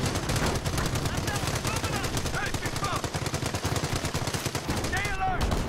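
Sustained World War II battlefield gunfire in Company of Heroes during the taking of Cherbourg, with rapid machine-gun bursts rattling on and on, dense and continuous, and faint shouted voices buried in the din.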